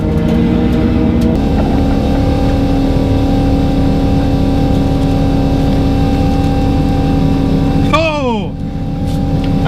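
A 3.7 L V6 Mustang with a stock sealed motor accelerating hard down a drag strip, a loud sustained engine drone that climbs and then drops sharply near the end as the throttle comes off.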